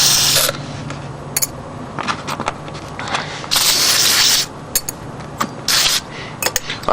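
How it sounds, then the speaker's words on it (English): Carburetor cleaner sprayed from an aerosol through the ports of a TS185 carburetor: several close, loud hissing bursts of differing length, broken by small clicks and handling noises, with no talk. "Spray through the ports again."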